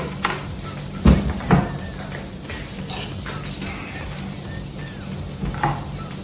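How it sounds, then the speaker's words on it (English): Ginger dropped into melted butter in a pan for spiced pilaf rice, a continuous frying sizzle punctuated by a couple of louder clunks and stirring knocks, close by with no talk. "Once the butter is in, put in the ginger."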